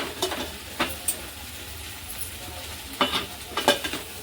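Bitter gourd being stirred with tomato and jaggery in a pan: a low steady sizzle with a few scraping spoon strokes, clustered near the start and toward the end.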